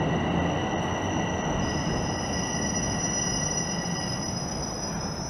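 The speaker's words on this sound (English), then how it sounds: "I'm going to hop on this train" A Toronto subway train runs steadily with loud broadband rumble and rail noise, with sustained high-pitched wheel squeal tones throughout, close by and without speech.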